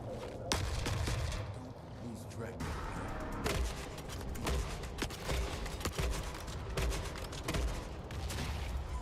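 Grenade launcher firing in the Forever Winter shooter, sharp booming shots spaced irregularly amid dense battle noise, with a voice talking over much of it.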